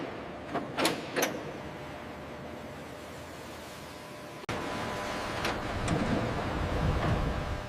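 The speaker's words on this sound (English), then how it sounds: "Trailer doors are sealed to protect the shipment." Heavy truck trailer doors at a carrot processing factory's loading dock close with a few sharp knocks, then one loud slam, followed by steady ambient hum and rumble.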